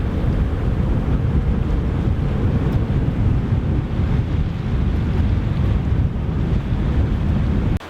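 Strong wind buffets the microphone while waves wash against a sailboat's hull under sail in open water on the Scottish coast, a loud, steady rumbling roar with no voices.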